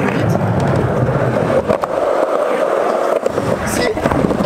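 Skateboard rolling on worn Mini Logo bearings, a steady continuous rumble with a faint rattle, picking up speed, loud and close, with no talk over it.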